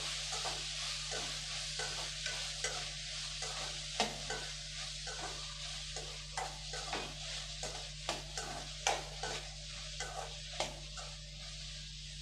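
Cardamom and cloves sautéing in a pan for country chicken curry make a soft, low sizzle under a steady background hum, broken by regular scraping strokes of a stirring spoon.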